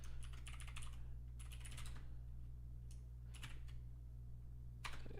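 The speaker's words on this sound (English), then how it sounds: "Going through and doing the fun typing and all that." Quiet bursts of typing on a computer keyboard, several quick runs of key clicks separated by pauses, over a steady low electrical hum, with no talking.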